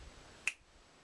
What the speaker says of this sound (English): Just a finger snap.